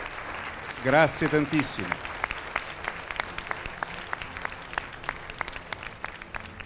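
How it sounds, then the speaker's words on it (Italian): An audience at the Miss Europe Continental 2015 beauty pageant applauds Miss Belgium with steady, moderately dense clapping that carries on after a brief spoken thanks over it near the start. "A nome del Belgio, applausi,"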